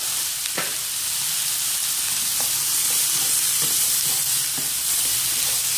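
Pork fat cracklings fry in a pan with a dense, steady sizzle, broken by occasional soft pops and spits. The sound is close and even, with no talking.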